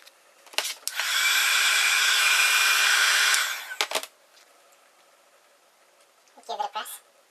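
A heat gun blows hot air onto the back panel of a red iPhone X, a steady loud roar for about two and a half seconds with brief handling clicks before and after and short rustles near the end.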